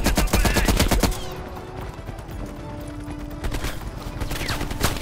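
Gunfire in the video game Call of Duty Black Ops Cold War: a loud, dense burst of rapid automatic shots in the opening second, then a lull with background game noise, followed by renewed firing toward the end.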